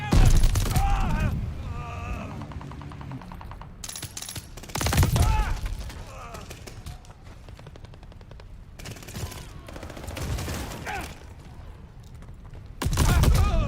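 Rapid automatic gunfire and heavy booming cannon blasts in the Call of Duty video game, loud bursts of firing separated by quieter stretches, with a voice speaking at times in between.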